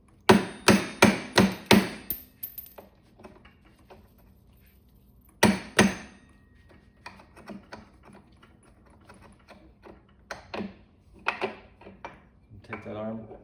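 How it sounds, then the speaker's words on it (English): A dead blow hammer striking the suspension arm of a Dualtron Thunder 3 electric scooter to knock it loose. It opens with a quick burst of five sharp hits, then comes a pause, a double strike, and scattered lighter taps and clatter. "grab that dead blow hammer and kind of knock up on it, down, try to hit out on it from the side"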